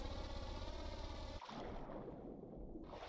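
Steady mechanical drone of a boat engine running at throttle in the Stormworks video game, loud and continuous, with a sudden shift in tone partway through as the sound changes; no speech.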